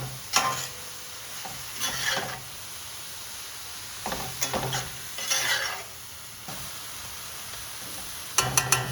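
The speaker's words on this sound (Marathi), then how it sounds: "भोपळा जास्त शिजवायला लागत नाही, फक्त नावाला थोडासा परतून घ्यायचा" Pumpkin pieces sauté in a hot pan, with a soft sizzle beneath bursts of scraping and stirring strokes that come and go in uneven clusters, close and fairly quiet, with no talking.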